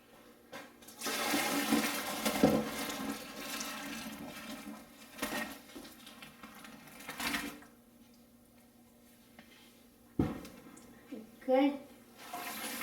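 Hot water draining from a pot of cooked dried cod into a sink, gushing close by in uneven bursts with short pauses, then trailing off into quieter splashes.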